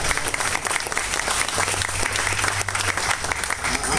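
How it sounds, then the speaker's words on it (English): An audience claps after a speaker at a 2014 gathering, a dense and steady round of applause that fills the room for several seconds with faint voices mixed in. "Let's give her a hand."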